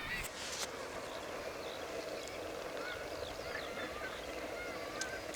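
Gannets and other seabirds calling at the RSPB Bempton Cliffs colony, with a puffin nearby: a steady wash of distant honking and chattering calls over continuous colony noise and wind, no talking.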